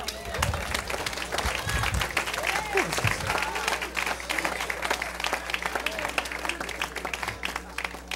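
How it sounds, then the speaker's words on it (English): A church congregation claps hands during a worship service, a steady, dense wash of clapping running throughout, with voices shouting and talking over it and a low rumble underneath. "Clap your hands and tell him thank you."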